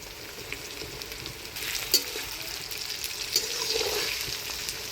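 Onions sizzling and frying in a pan as tomato and crushed garlic are added for a village-style duck curry, a steady crackle with a couple of sharp clinks of a utensil and stirring.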